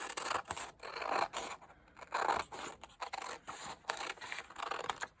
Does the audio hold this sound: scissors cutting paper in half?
yes